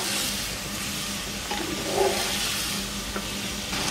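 Ginger garlic paste, three tablespoons, hisses in hot oil in a pan for Old Dhaka style beef tehari, a steady close sizzle with occasional light stirring scrapes throughout.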